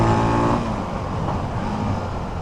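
An SWM Outlaw 500 motorcycle engine revs high during a ride, a loud, steady droning roar that eases slightly after the first half second and carries on with wind rush.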